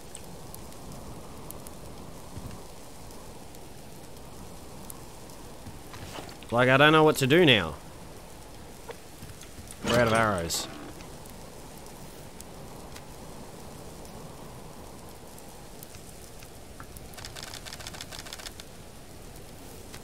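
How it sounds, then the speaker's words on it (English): In the Subsistence survival game, rain falls as a soft, continuous patter, steady beneath a voice, which talks in two short bursts. "Why does it have to rain?"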